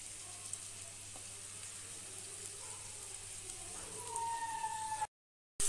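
Chopped tomato added to village-style chicken curry frying in a pan, a steady soft sizzle and crackle close by with some stirring, ending in a brief cut to silence.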